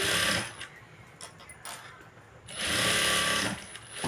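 Domestic sewing machine running a top stitch along a blouse, heard as a few bursts of steady whirring of varying length with short pauses between, moderately close.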